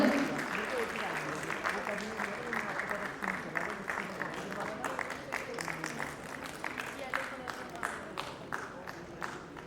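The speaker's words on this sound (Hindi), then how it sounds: "please put your hands together" Sustained audience applause at a Haryana Chief Minister keynote at a TiECON event, a steady wash of many hands clapping at moderate distance with some voices mixed in.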